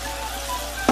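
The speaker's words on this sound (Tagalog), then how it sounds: "Siyempre, halo-haloin natin para hindi magdikit-dikit." Beef and onions frying in a pan for roast beef in gravy, a steady close sizzle with a brief scrape of stirring near the end, no voices.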